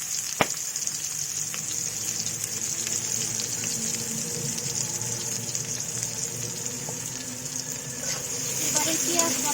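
Chopped onions fry in hot oil with whole garam masala spices and bay leaves, giving a steady, close, hissing sizzle with a sharp clink near the start.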